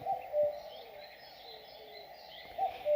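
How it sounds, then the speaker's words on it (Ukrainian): Birds sing in a sunny green meadow beside a distant forest, giving soft, faint cooing and chirping calls that repeat gently over a quiet, steady background. "Співають птахи."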